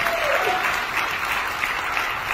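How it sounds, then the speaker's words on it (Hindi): An audience at a Modicare seminar breaks into sustained, loud applause, a dense and even wash of many hands clapping together without pause. "दोस्तों समीर मोदी ग्लोबल बैंक के लिए एक बार जोरदार ताली बजाएं"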